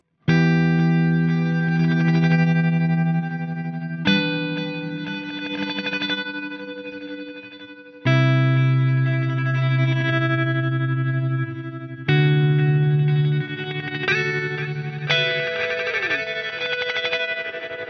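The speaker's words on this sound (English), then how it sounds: "non-linear gives us that sort of choppy, almost tremolo-like effect, and magneto is almost like a delayed line with some pre-delay on" Guitar through a Strymon BigSky MX reverb pedal set to a non-linear reverb blended into the Magneto setting, producing choppy, tremolo-like pulsing chords with delayed repeats, loud and sustained, restarting every few seconds.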